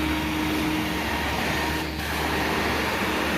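A truck-mounted carpet cleaning machine runs on full blast during a move-out cleaning job, a loud, steady roaring whine that drones without a break and dips only briefly once midway. No one speaks.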